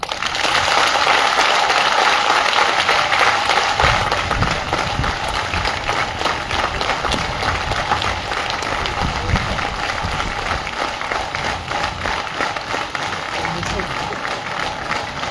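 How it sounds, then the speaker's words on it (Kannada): An audience at a talk bursts into sustained, dense applause that carries on loudly throughout, a crowd clapping continuously with a bit of voice mixed into the roar. "ಹಿಂಗ್ ಚಪ್ಪಾಳೆ ಹೊಡೆದಿದ್ದೆ ಎಲ್ಲಿಯೂ ನೋಡಿಲ್ಲ"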